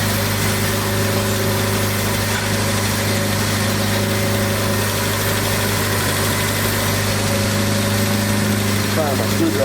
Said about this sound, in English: Starting to idle up a little bit now. But I think I better idle it down some.